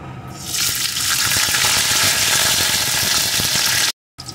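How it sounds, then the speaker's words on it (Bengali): Garlic cloves drop into hot oil that has just fried chillies for potol bhorta, bursting into a loud, steady, close sizzle that holds evenly for several seconds before cutting off abruptly. "এখন এই তেলের ভিতরে দিয়ে দেব কয়েক কোয়া রসুন"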